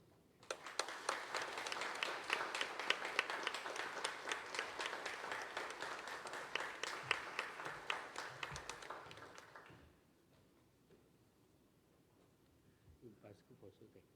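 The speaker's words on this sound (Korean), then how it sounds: "우리 선교사님 오실 때 큰 박수로." A church congregation at a Sunday evening worship service claps loudly for an arriving missionary, a dense run of rhythmic claps lasting about nine seconds before stopping abruptly, followed by quiet room tone.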